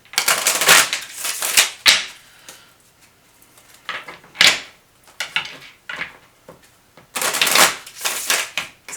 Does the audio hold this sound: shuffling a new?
yes